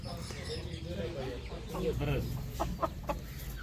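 Chickens on a farm cluck in short bursts beneath steady talking, with a few sharper calls toward the end.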